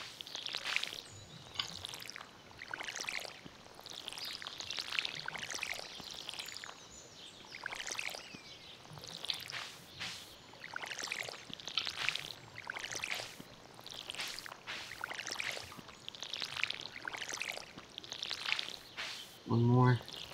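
Watering crops with a watering can in Stardew Valley, a faint repeated series of soft pouring and splashing bursts in an even rhythm, with a brighter chime near the end.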